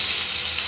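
Bangda mackerel frying in a pan on a low flame, a steady, close hiss of sizzling oil with no breaks.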